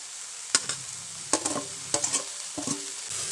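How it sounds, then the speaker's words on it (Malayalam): Mixed vegetables with grated coconut, turmeric and green chilli being stirred in a pan, giving four short scraping stirs over a soft steady sizzle, close and alone. "നല്ലപോലെ ഇളക്കി കൊടുക്കണം കേട്ടോ"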